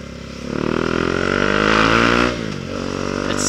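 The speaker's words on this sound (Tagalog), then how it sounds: "Ang daming motor!" Many motorcycles riding in dense traffic, a loud close engine roar that builds and revs for about two seconds before dropping back to a steady idling drone with other engines around.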